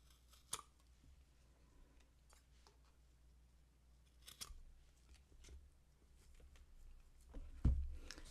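Scissors snip through craft card while making teabag flip story cards, a few sharp cuts scattered over quiet room tone, with a louder crunching cut near the end.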